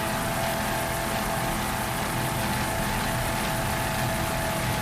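Offshore racing powerboats tearing along at full speed in a marathon grand prix, a loud, dense roar of engines and rushing water that stays constant and unbroken.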